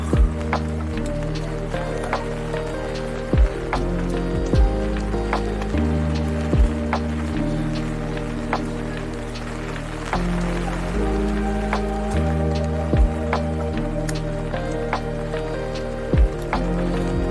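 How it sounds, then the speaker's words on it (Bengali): Heavy rain pours steadily at Lava Monastery in Kalimpong, a continuous hiss of drops on surfaces running throughout, with a low hum and occasional sharp taps in the background. "প্রচণ্ড বৃষ্টি হচ্ছে"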